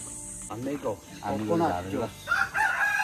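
A large local rooster crows nearby in the Philippines, several drawn-out calls in a row, with fainter clucking and other birds in the background.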